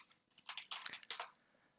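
Someone types a short command on a computer keyboard, a quick burst of light clicking keystrokes, close but quiet, with silence before and after.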